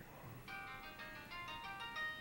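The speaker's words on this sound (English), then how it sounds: "The phone's ringing there." An electronic phone ringtone plays a quick repeating melodic pattern of bright tones, fairly faint and steady, with no voices.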